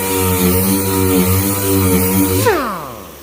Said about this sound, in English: the only option I got is to just start sanding on it